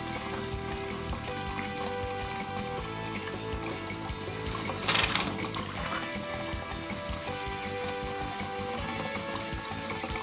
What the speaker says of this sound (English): we flush the hot and cold lines on every fixture